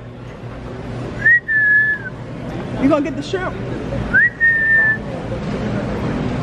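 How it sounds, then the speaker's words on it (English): Two loud, sustained whistles ring out a few seconds apart, each a rising note held flat, with a brief spoken question between them over outdoor ambience. "you're supposed to whistle"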